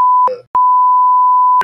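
Censor bleep tone, a steady pure beep heard twice: a short one, then a brief burst of noise, then a long sustained beep lasting about a second, loud and clean.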